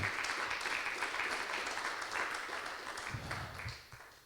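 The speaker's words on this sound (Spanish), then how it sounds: "¿Cuántos le dan un aplauso al Señor por eso?" Congregation applause during a Spanish-language church sermon, a fairly quiet wash of many hands clapping steadily for a few seconds, with some low thumps near the end.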